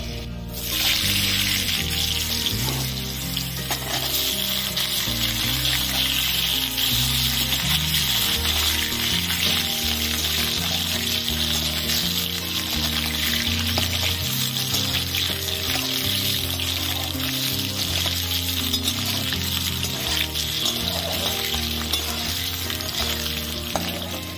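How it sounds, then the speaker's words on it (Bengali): Hand-cut potato strips fry in hot oil with a steady, dense sizzle and crackle that runs close and unbroken throughout, with occasional soft stirring beneath. "এখানে আমি দুটো আলুকে লম্বা লম্বা করে কেটে নিয়েছি, ভেজে নেব।"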